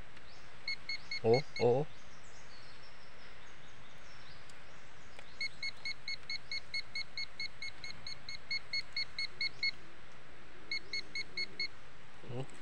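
A metal detector pinpointer beeps on a detected target during an outdoor search. Its high-pitched beeps come in rapid repeating bursts through most of the clip, with a brief exclaiming voice near the start over faint background hum.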